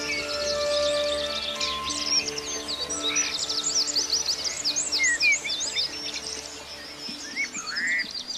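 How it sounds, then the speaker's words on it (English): Spring forest canopy full of birdsong, with many birds chirping and trilling at once over a faint steady hum, some calls close and bright, others distant. "the canopy echoes with birdsong, an ode to courtship"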